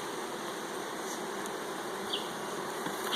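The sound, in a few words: bees buzzing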